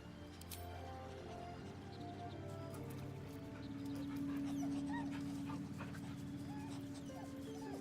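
A dog in Baldur's Gate 3 whimpers and pants softly, close by, under a continuous bed of game music and ambience, with a brief voice heard faintly.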